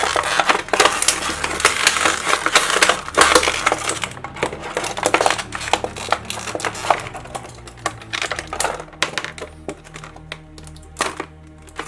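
Packaging around a Neca Pennywise toy is torn and unwrapped up close, a busy run of crinkling plastic, crackles and sharp snaps that thin out toward the end.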